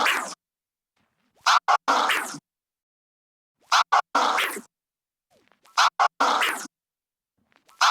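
DJ scratch combo on a turntable: three repeated bursts of quick chopped flare clicks, each ending in a longer forward record push, loud and close with clear gaps of silence between phrases.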